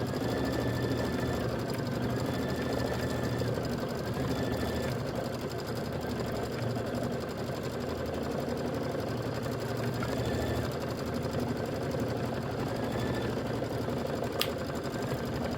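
An embroidery machine stitches out a quilt block in a steady, rapid mechanical chatter that runs unbroken and evenly loud, close up, with no voices over it.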